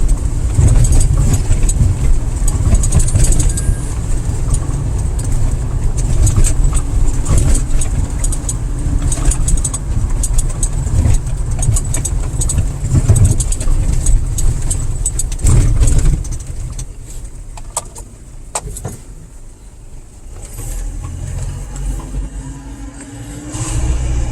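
A car drives across toward a winter fishing spot by the Judeok weir in Chungju, South Korea, its engine rumbling loud and steady from inside the car, then easing to a quieter idle-like hum with scattered rattles near the end.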